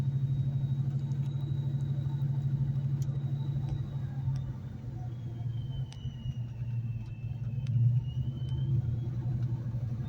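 A 2004 Procharged Mustang Mach 1 driving slowly out of a neighbourhood while warming up, a steady low engine rumble heard from inside the car with a faint whine above it, continuous and moderately loud with no talking.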